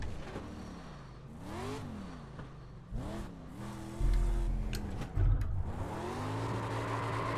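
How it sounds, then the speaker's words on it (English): A dirt street stock car in iRacing revs hard for burnouts on the Volusia pit lane, engine pitch climbing and falling in repeated surges with sharp throttle blips, loud and close. "these cars do burnouts very easily"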